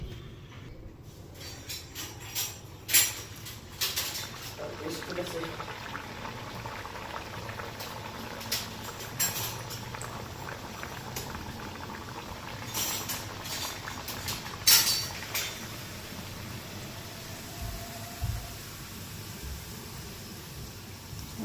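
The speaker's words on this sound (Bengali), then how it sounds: "আমার তেলও গরম হয়ে গেছে হালকা এখন একটা একটা করে ভাজা নেই" Hot oil bubbles and sizzles steadily for a long stretch as snacks fry one at a time, a continuous frothy hiss with occasional louder pops and crackles, heard up close.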